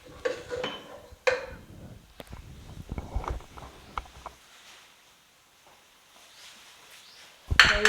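Ground beef for tacos being mixed in a pan: irregular clinks and scrapes of a utensil against the pan, close by, fading to near quiet midway before a louder clatter at the end, with no talking.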